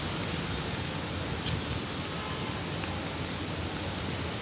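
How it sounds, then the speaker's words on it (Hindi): Rain falling outdoors by a house where water is collecting, heard as a continuous, even hiss that stays at one level throughout, with no voices. "ये देखिए सर बारिश"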